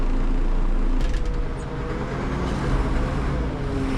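A road grader clears wind-drifted snow from the south side of a rural road near a mailbox, its engine giving a steady, close, heavy diesel rumble with a constant low drone throughout and no voices.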